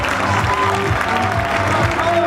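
Crowd cheering and applauding as runners reach the home stretch of a 5000 meter track race, a dense continuous roar with clapping throughout.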